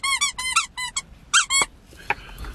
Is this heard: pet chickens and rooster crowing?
no